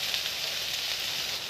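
Hot oil sizzling steadily in a pan, ready for frying puri, a continuous bright hiss with fine crackles, close and even throughout with no talk.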